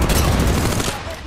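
Rapid gunfire from an Apex Legends match, a dense loud burst of shots that stays strong for about a second before easing off slightly, with game effects underneath.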